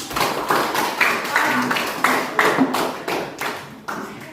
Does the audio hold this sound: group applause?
yes